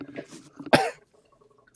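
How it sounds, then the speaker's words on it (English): A single short cough, fairly soft and nearby, amid faint background murmuring, made to catch someone's attention. "One of those aides just kind of coughs to catch your attention"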